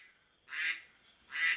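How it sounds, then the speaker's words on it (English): A duck inside a house gives two loud, nasal quacks about a second apart, close by against a quiet room. "Put that duck outside."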